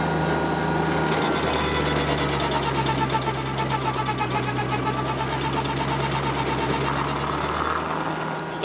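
A small tractor's PTO-driven stump grinder chews into a stump while clearing a lot. A loud, steady mechanical drone runs throughout, with rapid chattering grinding texture layered on the engine.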